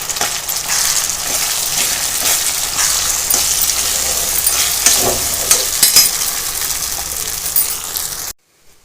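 Ground paste for uppu kozhukattai sautés in a pan with a loud, steady sizzle and scattered utensil clinks, then cuts off abruptly into silence near the end.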